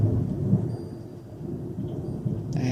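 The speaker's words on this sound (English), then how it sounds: "So that's what you just heard, thunder." Thunder rumbles low and steady through a rainstorm, a deep continuous roll with a slight swell near the start and rain hiss underneath. No voices are heard.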